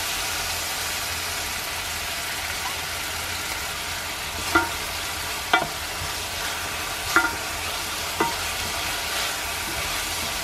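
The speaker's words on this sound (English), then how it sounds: "I'm gonna let that saute for a little bit and I'm gonna add in some olive oil" Diced red onion sautéing in olive oil in a pot gives a steady, even sizzle that runs throughout, with a few brief utensil clicks and scrapes breaking through near the middle and toward the end.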